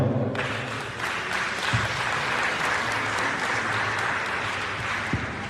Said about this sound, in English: Put your hands together for Archie. Keep clapping.